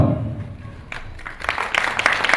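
An audience at an Indian classical music and dance event in Dubai breaks into applause, the clapping swelling louder and denser in the second half.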